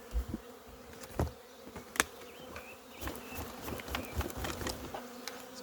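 Bees are shaken into the front of a small colony's hive, giving a faint, steady buzzing hum with scattered knocks and thumps from handling the hive, heard close up and with no talk.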